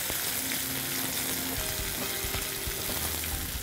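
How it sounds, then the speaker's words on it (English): Sliced onions sizzle in hot ghee with crushed cinnamon and bay leaf, a steady dense crackle throughout with a few soft stirring knocks near the pan and no voices. "We have to saute the onions till they are transparent."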